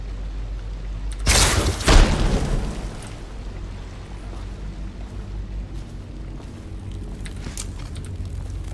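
A tripwire explosion in a video game bursts with a single loud, deep boom that rolls off over a second or two, followed by a low ambient rumble.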